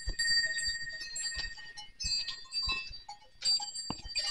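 Goat bells clink and jingle in uneven bursts on a mountain pasture as the herd moves about, fairly close, with quiet gaps between the clusters of metallic tones.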